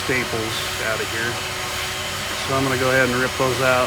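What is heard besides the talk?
vacuum cleaner running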